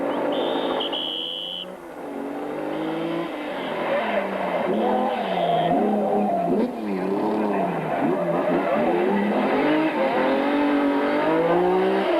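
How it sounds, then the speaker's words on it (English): A 1989 Nissan rally car revs hard and loud with its wheels leaving the ground, the engine note climbing and falling in repeated sweeps over about twelve seconds with a faint high whine early on. "it was Glenn Gibbons, another action-packed youngster getting the wheels in the air and revving that car to the absolute sky"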